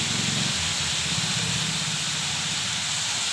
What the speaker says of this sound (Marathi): आता ह्याच्यामध्ये भिजत घातलेली तूर डाळ मी ॲड करणार आहे